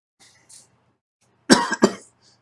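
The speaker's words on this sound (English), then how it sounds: "I was the one that coughed that time" A single close cough with two sharp bursts in quick succession, preceded by a few faint breathy sounds in an otherwise quiet room.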